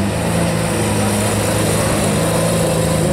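A Lamborghini Aventador SV with a Capristo exhaust, valves closed, idling or moving slowly on a street in Juan-les-pins, a loud steady engine drone with a low hum, unbroken and without talk.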